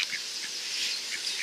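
Ducks at a pond call in a few short, separate quacks over a steady outdoor background, moderately close and not very loud.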